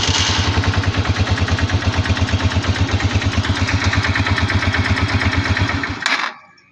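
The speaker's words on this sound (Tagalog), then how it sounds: "nag-start po agad yung motor nung pinag-short ko po yung dalawang terminal ng starter relay" A Motoposh 155/125 motorcycle engine, running after its starter relay terminals were shorted, idles close by with a steady rapid low throb, then cuts off abruptly near the end.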